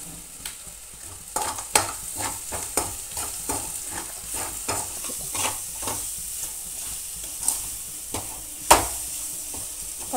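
Chopped onions and green chillies with turmeric and salt frying in a pan, a soft sizzle broken by repeated scraping stirs of a spatula at an uneven rhythm, close and fairly quiet.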